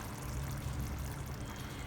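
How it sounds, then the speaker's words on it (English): Water poured into a pan of simmering vegan bolognese sauce, a steady close pouring and sizzling wash that runs evenly for about two seconds. "Let's add a bit of water"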